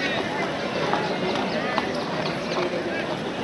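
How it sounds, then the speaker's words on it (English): Racehorses walk in the paddock parade before the 75th Indian Derby, their hooves clip-clopping softly and irregularly amid a busy outdoor crowd murmur. "horses in the paddock for the running of the 75th Indian Derby."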